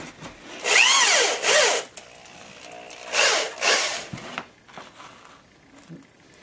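A power drill whines in several short bursts, rising and falling in pitch as it bites into rubber for snowshoe harnesses, with brief speech between.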